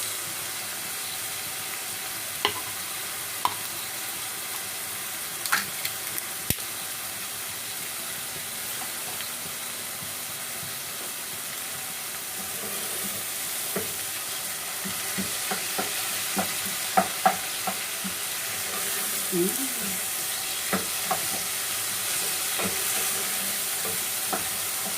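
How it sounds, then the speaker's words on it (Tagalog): Sardines sautéing in a pan for a mung bean stew, with a steady soft sizzle and occasional spoon-and-pan clatters and stirring scrapes. "Igisa natin mabuti para hindi siya malansa."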